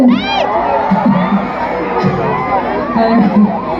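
A crowd of children shouts and cheers loudly at a concert, high voices whooping and overlapping in a lively, continuous roar.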